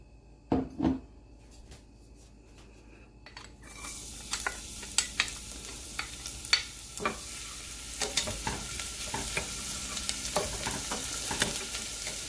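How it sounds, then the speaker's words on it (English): Garlic and rice stir-fried in a little oil in a medium pot: a couple of clunks, then a sizzle that swells and continues under repeated clicks and scrapes of stirring, close and moderately loud. "We're going to stir fry the garlic and the rice."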